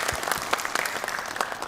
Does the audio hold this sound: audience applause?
yes